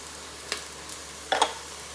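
Chopped onions with ginger and garlic sizzle quietly in a soup pot, heard as faint, brief crackling hisses in two or three short bursts over near silence.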